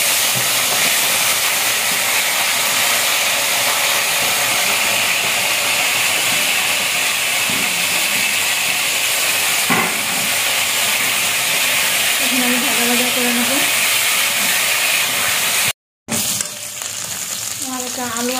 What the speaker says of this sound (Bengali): আলু আর কচু আমার ভাজা হয়ে গেছে।